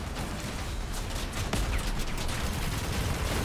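Vehicle-mounted weapons firing in Crossout, a steady, dense rattle of rapid shots mixed with engine and battle noise, loud and continuous throughout the short stretch.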